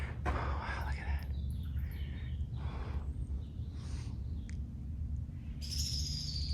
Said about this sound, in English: I hear birds, but I don't hear anything else.